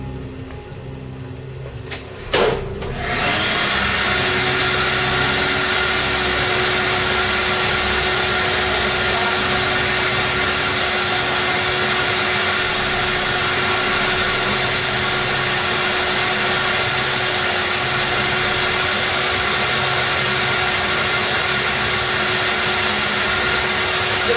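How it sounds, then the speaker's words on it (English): Table sander with a vacuum hooked up, a quiet hum that jumps to a loud, steady motor roar after a couple of seconds and holds unchanged, with no talking. "I got the vacuum hooked up to the sander, and I'll show you how that works real quick"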